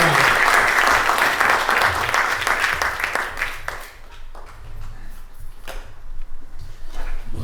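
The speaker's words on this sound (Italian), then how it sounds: "Quindi accogliamolo con un applauso." An audience welcomes a solo singer at a live evening show at Villa Radaelli in Bussero with a loud round of applause that fades after a few seconds, leaving scattered claps and faint room sounds.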